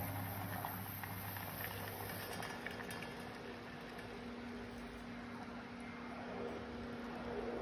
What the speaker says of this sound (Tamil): இப்போ 5 நிமிஷம் நல்லா கொதிக்க விட்டுட்டேன்.